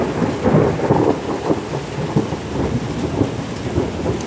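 Thunder rumbles low and heavy through steady driving rain in a severe thunderstorm, the downpour a constant close hiss while deep rolling booms swell and fade underneath.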